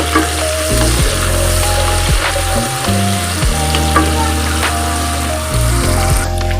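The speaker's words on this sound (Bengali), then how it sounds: "এবার আমি পেঁয়াজগুলো সব ছেড়ে দেবো এবার পরিমাণ মতো আমি নুন দিয়ে নেবো এবার আমি নেড়ে নেব পেঁয়াজগুলো" Onions sizzle and fry in a pan for a chicken kosha with masala, cumin, tomato and yogurt, with stirring scrapes breaking through a steady, loud crackle and a low hum running underneath.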